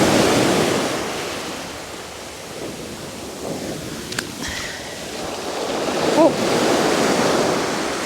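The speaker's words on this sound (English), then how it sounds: "Just wait for the next wave." Sea waves wash and break on Brighton beach, a loud broad surge that eases back and swells again toward the end, with faint clicks and a brief voice in the background.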